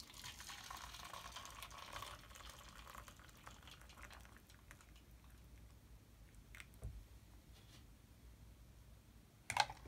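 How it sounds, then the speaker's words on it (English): Hot water pours steadily for several seconds, a soft running trickle close by, followed by quiet clinks and a sharp tap near the end. "we'll put the same amount of hot water in each one of the coffee cups."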